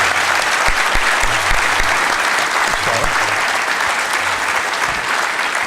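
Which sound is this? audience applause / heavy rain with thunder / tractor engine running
audience applause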